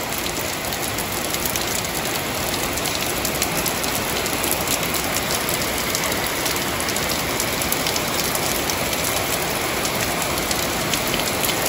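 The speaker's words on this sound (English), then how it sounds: "Only in Florida will the sun be shining and it be pouring down rain." Heavy rain pours down in Florida under sunshine, a steady, loud, unbroken hiss of drops drumming on surfaces close by for the whole stretch.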